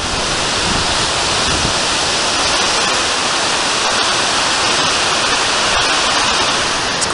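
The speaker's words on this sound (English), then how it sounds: "here we are at one of the rapids. It's pretty noisy," Loud, steady roar of river rapids in Yellowstone fills the whole stretch, a dense continuous rush of churning whitewater with no let-up and no voices.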